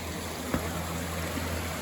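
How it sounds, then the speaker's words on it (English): Rushing water roars in a constant wash of noise from a nearby waterfall along the Appalachian Trail, with a faint knock partway through. "First waterfalls of the day."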